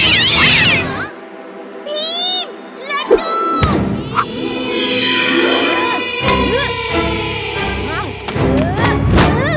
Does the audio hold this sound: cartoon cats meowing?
yes